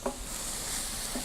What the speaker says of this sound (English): Mix it together. Add the quinoa.